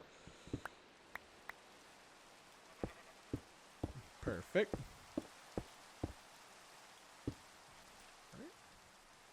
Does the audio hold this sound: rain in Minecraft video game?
yes